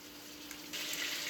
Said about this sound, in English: I'm going to let this in here sizzle for a little bit